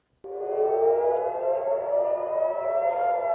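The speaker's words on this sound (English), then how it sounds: "Sirens blared in Tel Aviv this morning as Israel says it intercepted a missile fired by Houthi militants in Yemen." An air raid siren in Tel Aviv starts abruptly and then holds a loud, sustained wail with a slowly rising pitch. It sounds alone with no talk.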